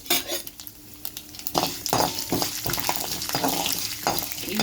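Spoon stirring mustard seeds and urad dal frying in hot oil in a pan for green chilli chutney, a steady sizzle with repeated scraping clinks of metal against the pan, fairly close, no talking.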